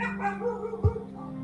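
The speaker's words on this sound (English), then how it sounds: "And there's a dog." A dog gives a single sharp bark partway through, close and clear over a background of low tonal hum.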